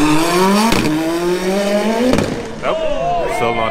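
A drag race car on 26-inch tires launches down a quarter-mile strip, its engine roaring loud and climbing in pitch through the gears, with tire noise and a second rising rev near the end.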